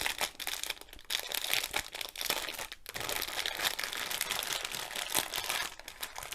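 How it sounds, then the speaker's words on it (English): A glued side strip on a plastic bag of diamond painting drills is peeled open, giving close, continuous crinkling and crackling of thin plastic with no talk. "These bags they have a strip of glue along the side. They don't open at the end, so I'll peel that back."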